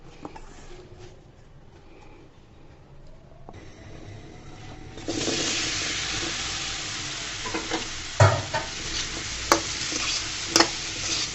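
Mango pieces for a sweet-sour mango chutney sizzle in a pan. Quiet at first, the frying grows to a steady loud hiss, and a few sharp clinks of a stirring spoon against the pan break through near the end.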